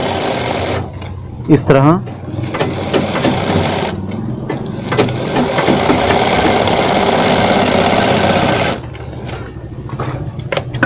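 An electric sewing machine runs in several loud whirring bursts, close up, stitching a frill onto a sleeve, with someone speaking in the pauses between runs.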